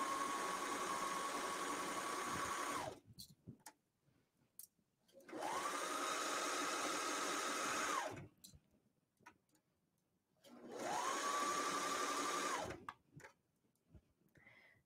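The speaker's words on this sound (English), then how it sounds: "most of it is a 4-thread overlock" A 4-thread overlock serger stitches a T-shirt in three steady runs of several seconds each, with a high whirring motor tone, separated by quiet pauses with small handling clicks.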